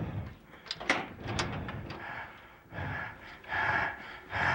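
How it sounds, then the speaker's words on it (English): Slow, heavy breathing sounds close by in a quiet room, drawn-out breaths and wheezy exhalations rising and falling across several seconds, alone without speech. "Just the breathing."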